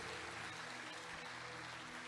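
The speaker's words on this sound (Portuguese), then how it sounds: "Aplaude Ele por isso." A church congregation applauding during a Portuguese-language sermon, a faint, steady wash of clapping that holds evenly from start to finish.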